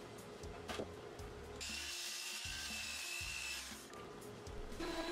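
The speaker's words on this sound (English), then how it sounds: "Here I'm squaring up the edges on the chop saw." A chop saw squares up the edges of a wooden board in a single loud whining cut lasting a couple of seconds. Quieter shop noise comes before and after the cut.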